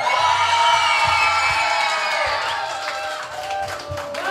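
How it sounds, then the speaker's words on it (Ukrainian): Wedding guests in Ivano-Frankivsk cheer, whoop and clap for the first couple after a dance contest, a loud, dense crowd roar that eases slightly toward the end, with a few shouts rising above it. "Ваші овації, першій парі!"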